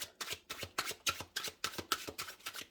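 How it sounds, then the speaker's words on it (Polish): Tarot cards being shuffled by hand, close and quiet, with a regular run of about ten crisp riffling bursts evenly spaced in steady rhythm. "Karty wcześniej oczywiście tosuję zawsze, ale przed samym filmem jeszcze raz."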